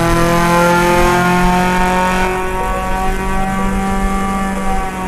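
Honda Civic EP3 Type-R with a Warex aftermarket exhaust revs hard in the Euro Truck Simulator 2 game, a loud, sustained high-pitched engine wail with dense harmonics that dips slightly midway and holds on, no talking.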